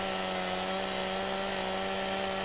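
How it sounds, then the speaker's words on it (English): A steel chainsaw in Farming Simulator 17 cuts logs into pieces, a steady, unbroken buzzing whine with a strong, even engine drone that holds at constant pitch and loudness throughout. "this steel chainsaw does an amazing job cutting up all of the wood into the right size pieces"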